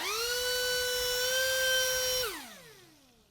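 A pneumatic air die grinder spinning at very high speed, up to around 56,000 RPM, used for porting LS9 Corvette ZR1 cylinder heads: a steady piercing whine that holds for about two seconds, then falls in pitch as the tool spins down.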